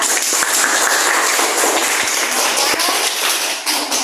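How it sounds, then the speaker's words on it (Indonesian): A classroom of students claps together at the end of a school presentation, a dense, close, steady patter of many hands lasting throughout without a break. "Kita beri aplaus ya"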